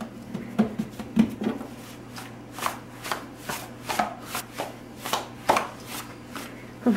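Pizza dough slapped from hand to hand in a home kitchen, flour flying, making a steady series of soft, fairly close pats spaced about half a second apart over a low background hum.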